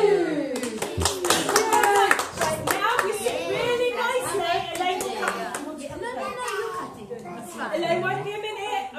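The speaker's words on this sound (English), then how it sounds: "so we're going to do two birthday claps" Hands clap in bursts at a young child's birthday party, mixing with lively children's and adults' voices chattering close by throughout.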